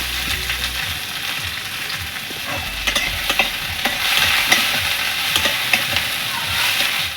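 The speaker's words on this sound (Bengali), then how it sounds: "তেলটার মধ্যে রসুনটা দিয়ে দেবো আগে। অল্প এতে পেঁয়াজটা দিয়ে দিচ্ছি" Garlic and then a little onion fry in hot oil, a steady close-up sizzle with occasional stirring clatter, continuing without any talking.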